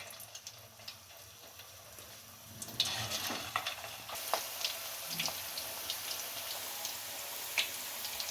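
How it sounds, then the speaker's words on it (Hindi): Chicken pakora pieces dropped into hot oil, frying with a steady crackling sizzle that rises partway through, scattered pops and bubbling close by, no talking. "अब इसे फ्राई कर लेते हैं। होने के लिए मैंने रख दिया था। अब इसके अंदर ये पीस डाल दें।"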